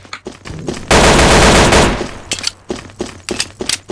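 Gunfire in the video game Day of Defeat: a loud sustained burst of rapid automatic fire lasting about a second, then scattered sharp single shots and shorter bursts, close and punchy with no talk.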